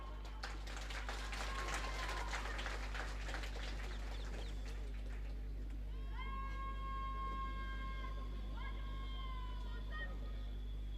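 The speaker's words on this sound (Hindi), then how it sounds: "शानदार थंब के लिए जोरदार तालियां" An outdoor crowd applauds at a police recruit passing-out parade in Lucknow. The dense clapping fills the first half, then gives way to drawn-out whistle-like tones over a constant low hum.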